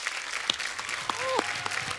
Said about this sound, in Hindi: एक बार जोरदार तालियां हो जाए हमारे सारे चैंपियंस के लिए